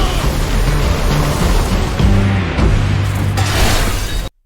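A magic barrier in an anime shatters under a devastating attack, a loud, dense crashing roar with a deep rumbling low end that holds steady and then cuts off abruptly, with no talk.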